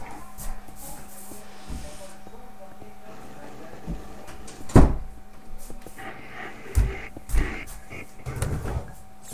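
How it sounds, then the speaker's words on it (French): A room door is pushed shut with a sharp knock and rattle, followed by a few more bumps and handling noises, while a person talks quietly over a faint steady hum. "Attendez, je vais juste fermer ma porte."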